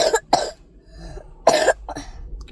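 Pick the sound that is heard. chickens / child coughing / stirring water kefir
child coughing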